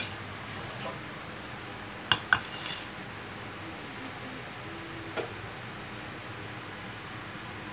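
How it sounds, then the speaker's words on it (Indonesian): Stir-fried bottle gourd with anchovies is transferred onto a plate, giving a few sharp utensil clinks and scrapes against dishware around the middle, then one lighter tap later, over a quiet kitchen background. "terus kita taruh di piring."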